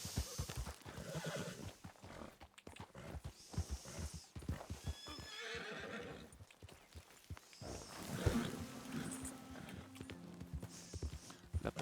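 Horse hooves clip-clop over uneven ground in the Red Dead Redemption II video game, with whinnies and snorts mixed in amid rustling movement, fairly close and continuous.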